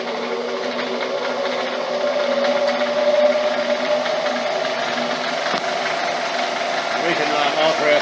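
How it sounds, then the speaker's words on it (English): A Bridgeport milling machine motor driven through a VFD runs at a steady hum with a constant tonal whine, holding an even level throughout with no change in speed. "I'm preferring to keep the motor running at its normal revs"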